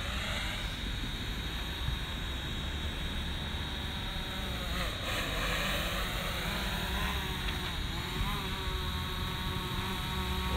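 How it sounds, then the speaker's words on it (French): Drone flying back in for landing during an advanced operations flight review in Canada, giving a continuous buzzing whine with shifting pitch over outdoor wind noise, steady and fairly loud throughout. "Donc, on ramène le drone."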